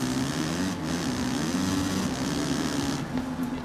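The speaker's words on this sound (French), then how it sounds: "c'est là qu'on on entend le bruit de mon tracteur KTM, j'allais dire Kawasaki, mais non, KTM" A KTM motocross bike engine in the MXGP3 racing game hums steadily and fairly loudly throughout, a continuous droning tone with no speech over it.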